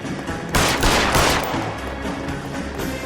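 Gunfire from the L.A. Noire video game during a foot chase, a burst of loud shots opening about half a second in and trailing into rattling, reverberant echoes over a steady background.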